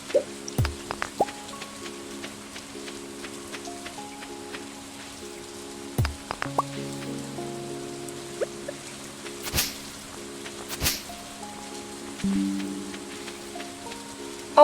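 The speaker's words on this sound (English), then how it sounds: "Especially with how heavy that rain looks." Rain in the Stardew Valley farming game falls as soft scattered drips and patters, with a few sharper droplet hits and faint tonal game music running underneath.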